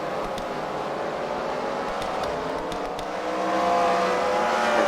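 Race cars circling a track at the Freedom Factory, a steady distant engine drone with several cars overlapping, swelling louder near the end as a pack passes closer.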